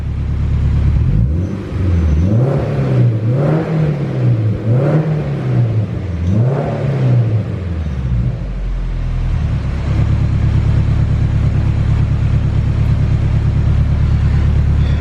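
A turbocharged Honda S2000 engine on a Haltech Elite ECU revs repeatedly, its pitch swinging up and down several times as if bouncing off the rev cut. It then settles into a steady, loud rumble.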